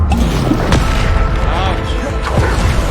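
In Hogwarts Legacy combat, a Bombarda spell explosion booms as a dense, heavy blast amid continuous rumbling game noise, with voices over it.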